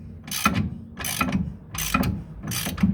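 A ratchet retightens a bolt on the suspension of a 1969 Corvette, four even ratcheting strokes of clicking pawl close up, with no talk.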